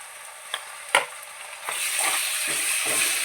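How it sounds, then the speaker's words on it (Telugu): Ginger garlic paste fries in a pan for chicken curry, a steady sizzle that grows louder partway through, with a few sharp stirring clinks. "పచ్చి వాసన పోయేంత వరకు వేగనివ్వాలి"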